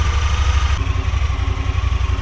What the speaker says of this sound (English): we've been idling nicely now for a few minutes